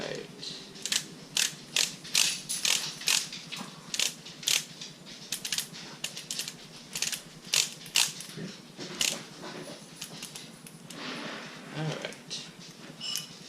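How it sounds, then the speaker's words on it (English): A torque wrench tightens a bolt on a Mazda RX-8 engine rebuild, giving quick runs of sharp ratcheting clicks in bursts with short pauses, close and fairly crisp, while a person talks in between. "Let's see if I can torque this or not."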